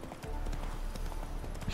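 Rapid, steady clip-clop of a horse's hooves as it is ridden at a brisk pace in The Witcher 3, a close, continuous rhythmic trot with a faint voice.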